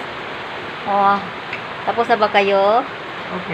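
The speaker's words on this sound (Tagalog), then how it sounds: "Ang lakas ng ulan dito." Heavy rain falls around a boarding house in Montalban, Rizal, a steady broad hiss that runs throughout, while a voice talks over it in short phrases.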